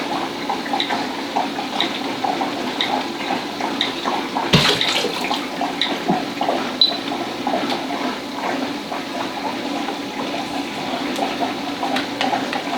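Continuous running water rushes steadily while washing freshly developed color film in a processing tank, loud and close with a constant hiss throughout, one brief clunk near the middle, and no talking.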